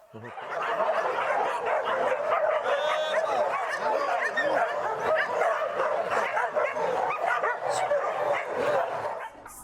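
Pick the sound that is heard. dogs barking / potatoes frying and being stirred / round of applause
dogs barking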